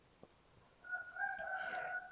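A rooster crows once, a drawn-out cock-a-doodle-doo that rises and holds for over a second, heard fairly close and alone after a brief faint click.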